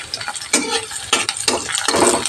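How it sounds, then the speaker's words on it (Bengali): Chopped garlic frying in mustard oil in a kadai over low heat, with crackling sizzle and repeated close stirring scrapes in quick bursts. "কড়াতে আবার সর্ষের তেল ঢেলে গরম করে নিয়েছি"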